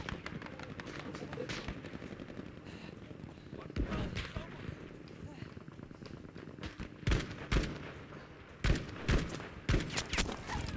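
Gunfire in Battlefield V aimed at a German Panzer tank: a steady crackle of shots over a dense battle din, with sharper, louder bursts clustering toward the end.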